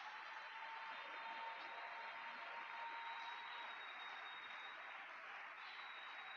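A church congregation applauds the Lord in steady, continuous clapping that fills the room without pause, a dense wash of hands at moderate volume.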